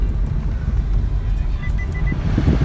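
A car rolls through a narrow village lane in Bilsanda, its engine and road rumble forming a steady, close, low drone with no talking.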